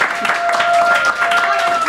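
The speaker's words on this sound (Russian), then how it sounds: "ваши бурные аплодисменты." Audience applause at a televised singing contest in Rostov, dense rapid clapping from a crowd, loud and continuous, with a steady tone running beneath it.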